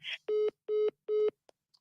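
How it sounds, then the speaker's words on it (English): Three evenly spaced beeps of a steady telephone tone ring out clearly after a phone call cuts off, each about a fifth of a second long, followed by faint clicks. "The phone just hung up."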